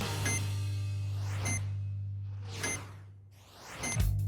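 Four sharp electronic beeps marking each swing of a pendulum through the bottom of its arc, at a steady, even pace over a constant low hum, each a bright tone with a brief clattery edge.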